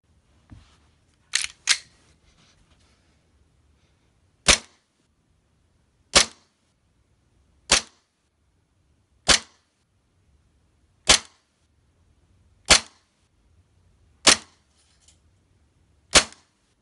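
A WE Glock 23 green gas airsoft pistol fires BBs in about nine sharp, loud pops. A quick double shot opens the run, then single shots follow roughly every one and a half seconds over near silence.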